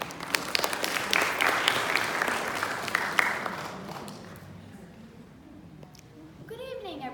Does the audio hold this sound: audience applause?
yes